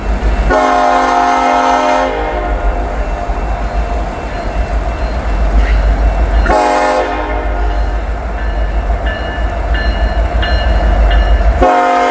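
A freight locomotive, an SD70 in snowy winter conditions, sounds long, loud horn blasts over the heavy, continuous rumble of the passing train.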